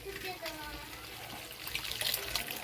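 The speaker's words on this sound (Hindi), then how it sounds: "इसमें थोड़ा सा पानी डाल दिया है" Water poured into cooking moong dal in a pot in a home kitchen, a steady splashing trickle running throughout at moderate level, close by.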